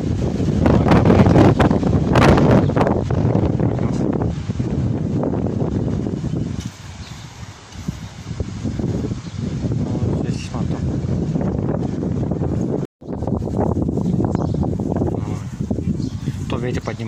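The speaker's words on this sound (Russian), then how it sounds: "То ветер поднимается, то утихает." Loud wind buffets the microphone in uneven gusts, rising and easing, with a brief drop-out near the end.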